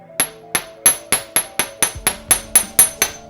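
Eleven sharp metallic strikes of a hammer on a metal jewellery ring resting on a block over a towel, spaced evenly and ringing briefly, close and fairly loud, with no voices.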